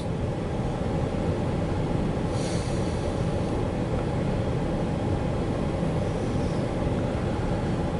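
CSX W751-29, an empty westbound rock freight train, rumbling steadily past on a single track, a continuous loud roll of railcars with a brief faint squeal partway through.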